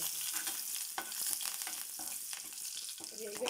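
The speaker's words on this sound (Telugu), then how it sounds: "ఇప్పుడు కళాయిలో కొద్దిగా మెంతులు అంచనాగా వేసుకుంటానండి, కొద్దిగా జీలకర్ర, కొద్దిగా ఆవాలు," Fenugreek, cumin, mustard seeds and curry leaves fry in oil in a kadai, making a soft, steady sizzle with light spattering and a few faint scrapes, quiet and close.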